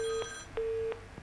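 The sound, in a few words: telephone line ringing on a call-in radio show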